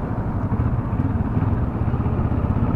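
A motorcycle engine rumbles steadily during a test ride of a Suzuki V-Strom or Kawasaki bike, a loud, close, low throbbing drone with a continuous pulsing beat and no talking.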